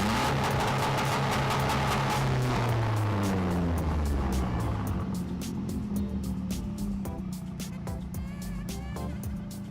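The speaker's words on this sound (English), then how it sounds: "The sound right when you're driving by, the blow-off valve going off" A turbocharged Mazdaspeed 6 engine roars loudly as the car passes close by, its pitch sweeping down, with sharp hissing bursts from the blow-off valve.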